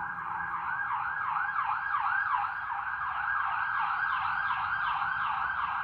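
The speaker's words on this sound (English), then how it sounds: "there's ambulances going through here all the time, every day, multiple times a day" An ambulance siren wails along a busy main road near a vegetable garden, its rising and falling tone repeating steadily and fairly loud for the whole stretch.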